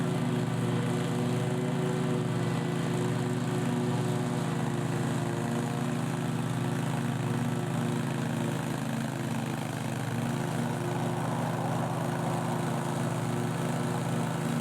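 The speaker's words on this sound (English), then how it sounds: "this mower could do some serious damage if you lose control of it" Walk-behind lawn mower mowing a steep hill, its engine droning loud and steady up close throughout with slight shifts in load, nothing else over it.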